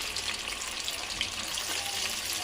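Chicken popcorn pieces deep frying in hot oil in a kadai, a steady close bubbling sizzle with a continuous hiss and no talking.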